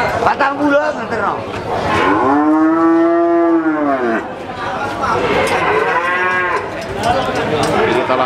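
Cattle and calves low at a busy livestock market, with several long, drawn-out moos close by, one after another, over a steady murmur of crowd chatter in the background.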